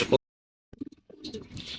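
A Netherlands Jan Aarden pigeon gives a few soft, low coos after a brief opening noise, close by and otherwise quiet.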